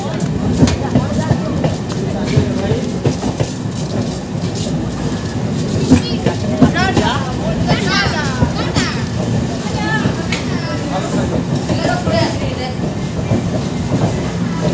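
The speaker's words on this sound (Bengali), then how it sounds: "মশাগ্রাম জংশনে আমাদের ট্রেন আসলো" An inaugural-run Purulia–Howrah MEMU train pulling into Masagram junction, with a steady rumble, rail clatter and squeals of wheels and brakes, while voices chatter throughout.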